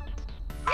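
Cartoon frogs croak in the ABC Galaxy alphabet learning game, giving a few short, bright ribbits in quick succession, clear and close against a faint background.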